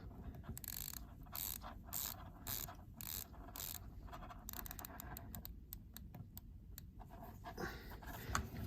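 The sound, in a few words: Seiko watch bezel being rotated, ratcheting clicks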